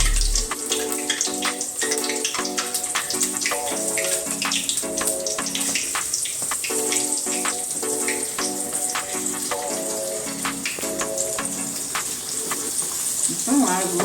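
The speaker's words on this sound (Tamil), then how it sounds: "இப்போ வந்து தட்டி வாழைப்பூவை எண்ணெயில் போட்டுடலாம்." Banana flower and lentil vadai fry in hot oil with a dense, steady bubbling sizzle, while faint tonal music plays underneath throughout.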